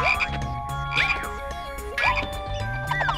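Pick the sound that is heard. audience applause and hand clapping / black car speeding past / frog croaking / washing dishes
frog croaking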